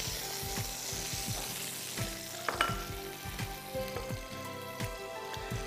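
Chopped onions fry in canola oil in a pan, giving a steady, close sizzle and crackle with faint stirring scrapes throughout, with no voices.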